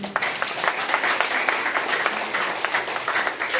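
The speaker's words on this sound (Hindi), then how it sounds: "बात अच्छी लगी हो तो थोड़ी सी ताली बजा दो।" Listeners at a Hindi motivational talk give a short round of applause, a moderately loud, even patter of many hands clapping for a few seconds.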